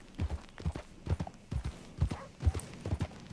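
Horse hooves clip-clopping at a steady walking gait in Red Dead Redemption 2, the evenly spaced, fairly close hoof strikes repeating about twice per second with no talk over them.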